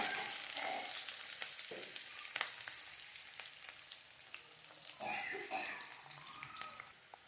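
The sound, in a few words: onions and green chillies frying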